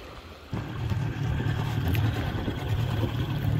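Outboard-motor bangka boat under way off Tigbauan, its engine drone steady and loud after starting abruptly half a second in, with low rumble and water wash throughout.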